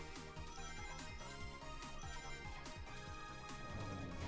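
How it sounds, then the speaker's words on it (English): An iPhone notification ringtone plays a quick melodic pattern of repeating chime notes, faint and steady beneath a busier background of game sound. "There's another notification iPhone,"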